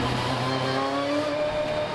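Ferrari race car engine heard onboard at Zolder during a Supercar Challenge race, a loud continuous drone holding steady, with rising tonal harmonics through the short stretch.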